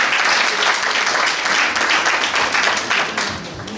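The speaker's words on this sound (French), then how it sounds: "On applaudit pour elle s'il vous plaît." A steady wash of audience applause fills the room at a 60th birthday celebration, sustained clapping from many hands that fades slightly toward the end.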